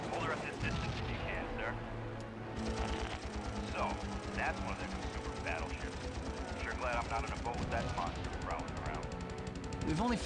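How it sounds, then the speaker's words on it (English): Rapid machine-gun fire from the Battle of Midway in the PS2 game Heroes of the Pacific rattles in fast, steady bursts over a droning aircraft engine hum, while someone talks throughout. "We're also getting shot at."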